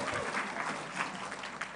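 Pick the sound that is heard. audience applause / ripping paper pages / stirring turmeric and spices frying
audience applause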